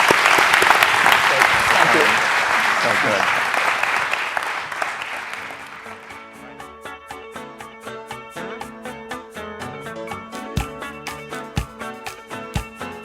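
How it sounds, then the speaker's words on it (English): Conference audience applauding at a 2018 recruiting event, a dense wash of clapping that thins out into scattered, distinct claps as it fades, with a few brief spoken thanks near the start. "So how about a quick round of applause and thank you for being here"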